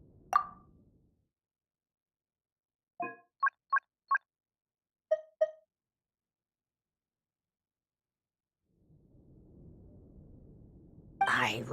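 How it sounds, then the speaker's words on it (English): Game ringing tone in a moonless-night questing game: a short cluster of four quick tonal beeps, then two more, clear and alone against silence, framed by soft rumbling noise. "I really hate that ringing tone."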